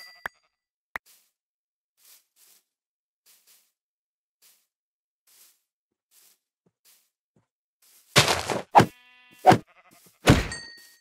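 Sheep in the Let's Do Vinery video game bleat and take hits as they are killed. Near silence with a couple of small ticks gives way to a late cluster of four loud, sharp bleating bursts.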